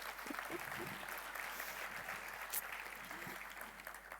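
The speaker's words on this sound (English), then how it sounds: "And do not forget a big round of applause for Anna." Dense, continuous audience applause at a demo day event, with scattered voices and a few cheers rising over the steady clapping.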